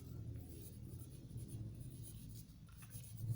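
Pen or pencil writing on paper during an English lesson: a quiet, continuous scratching with a faint low rumble beneath it, close to the microphone and without voices.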